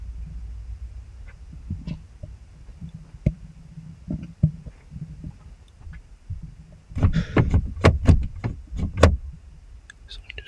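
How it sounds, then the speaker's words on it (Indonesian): Someone tugs at a van's sliding door, giving a cluster of loud metallic clunks and rattles near the end after quieter scattered knocks. "terdengar usaha membuka pintu geser van"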